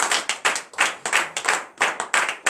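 A church congregation at a morning prayer service claps in rhythmic acclamation, close, sharp, evenly paced group claps in a steady beat.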